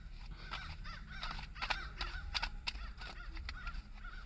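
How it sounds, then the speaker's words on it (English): Several crows caw repeatedly, harsh calls overlapping in an irregular series at moderate distance over a low background hum. "All these crows coming up."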